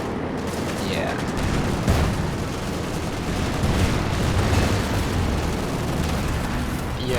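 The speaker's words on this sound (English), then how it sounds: "The Stuka strafing runs, they cause a lot of problems" A Stuka strafing run in Company of Heroes 2 during a 3v3 battle: dense, continuous gunfire crackling over a thick wash of explosions and battle noise, loud and sustained with no break.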